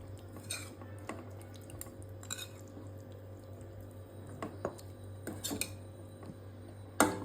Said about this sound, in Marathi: चांगलं असं मिक्स करून घ्यायची ग्रेव्ही